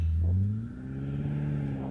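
BMW M5 performing a launch, its engine roaring hard with a rising rev tone through the first half, then settling into a steadier, still-strong pull as the car accelerates; close and loud, no talking.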